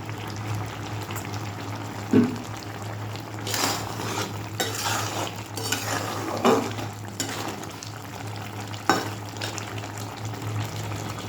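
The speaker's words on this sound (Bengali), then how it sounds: "একটু কাঁচা তেল দিয়ে দেবো বন্ধুরা" Raw oil poured into a pan of posto and stirred, giving scattered scrapes and clinks of a spoon against metal and a few wet bursts over a constant low hum.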